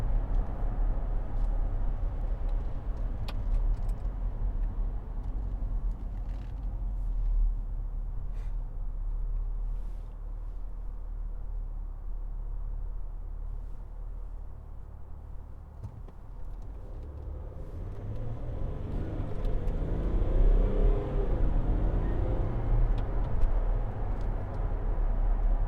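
A Range Rover Sport 3.0 SD V6 HSE pulls away, a steady low engine rumble and road roar that holds for the whole stretch and swells slightly toward the end, with no talk over it.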